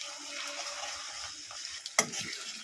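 Chopped onion with ginger-garlic paste sizzles steadily in a pan, a continuous hiss broken by soft stirring scrapes and one sharp clack of the spoon near the end, with no talking.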